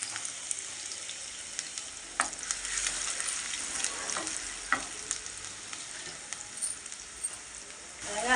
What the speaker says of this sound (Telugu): ఆవిడకి కైమా వండుతున్నాను.